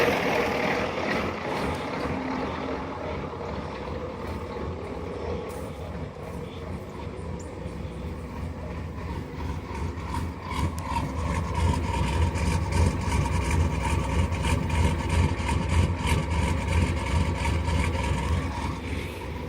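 Truck engine idling through a Banks 3-inch aftermarket exhaust after a cold start, a steady deep rumble that grows louder and fuller midway, heard close with no one talking.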